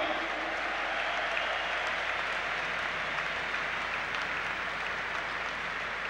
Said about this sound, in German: Euer Applaus vor der Kurve.